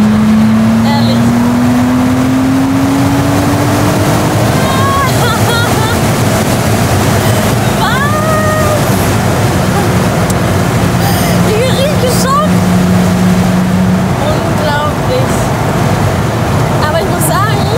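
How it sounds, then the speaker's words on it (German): A Ferrari driven open-top through Düsseldorf gives a loud, continuous engine drone with steady road and wind rush, while people talk over it throughout. "Der Motor, der gibt natürlich auch Rückmeldung, laute Rückmeldung"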